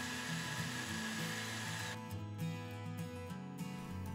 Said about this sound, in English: pre-drill into the passive door through one of the holes in the Astragal.